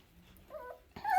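A puppy about six and a half weeks old whimpers and yips faintly in the background indoors: a couple of thin whines, then a louder burst of whining near the end.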